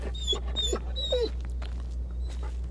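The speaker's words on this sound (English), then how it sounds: "Echo, where's my dog? Echo? Oh, he's laying right next to me" A dog whimpers in the Blair Witch video game, a few thin high whines and soft yips over a steady low hum, fairly close and not loud.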